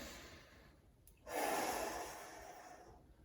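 One slow, deep breath during a core stretch, heard close and alone: a brief sharp intake followed by a long, soft exhale that fades away.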